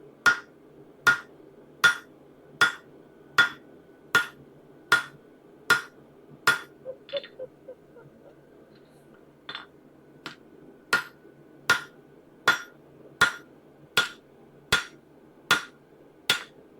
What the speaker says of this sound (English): Different hammer.